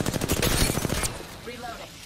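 A burst of rapid gunfire rattles in an online shooter game for about a second, fairly loud, then drops away to quieter game sounds.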